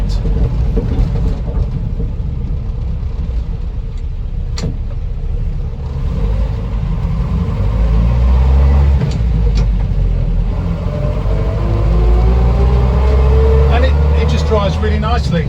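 A 1976 Land Rover Series III 109 pickup driving, its engine rumbling steadily inside the cab and rising in pitch toward the end as it accelerates, with someone talking over it throughout.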